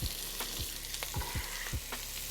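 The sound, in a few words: vegetables sizzling in hot sausage and bacon fat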